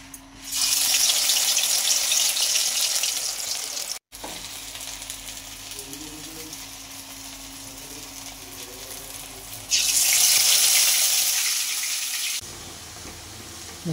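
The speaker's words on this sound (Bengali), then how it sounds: "দেখো এভাবে লাল লাল করে ভাজা" Batter-dipped fritters fry in hot mustard oil with a loud, crackling sizzle that swells strongly twice, broken by a brief pause and easing to a softer simmer in between, with no voices.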